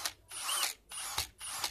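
An RTRMAX RTX2014 18V 4Ah brushless cordless impact drill fitted with a long drill bit runs in three short bursts, each whining up in pitch and then stopping, with brief near-silent gaps between them.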